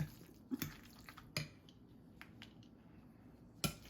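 Fork scraping and squishing through chunky homemade guacamole in a bowl, a few soft wet clinks and mushy stirs spaced out over a quiet background.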